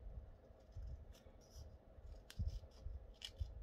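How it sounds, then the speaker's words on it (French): Scissors cut diagonally across paper for a scrapbook album page, a few faint close snips and crisp rustles at a low level, with no talk. "Et on va couper"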